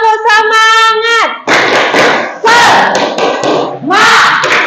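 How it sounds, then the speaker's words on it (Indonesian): A school class in an Indonesian lesson doing a rhythmic spirit clap, with loud close hand claps in a patterned beat mixed with children chanting along, following a sung or drawn-out voiced phrase at the start. "Oke, 1, 2, 3, tepuk semangat."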